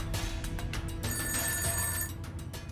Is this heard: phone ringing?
yes